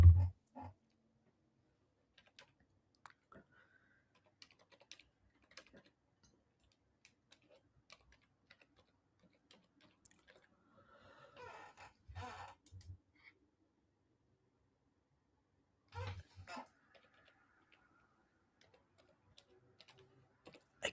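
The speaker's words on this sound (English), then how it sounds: "Yeah, I'm gonna type everything." Sparse, quiet keystrokes tap on a computer keyboard in short irregular clusters separated by long pauses of near silence, with a couple of louder clicks.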